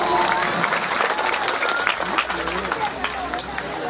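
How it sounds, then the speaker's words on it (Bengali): Audience applause for honored students at a school and college award ceremony, a dense steady wash of clapping hands filling the hall throughout, loud and continuous with crowd noise underneath. "আমি তাদের উদ্দেশ্যে একটি করতালির মাধ্যমে তাদেরকে অভিনন্দন জানাবো"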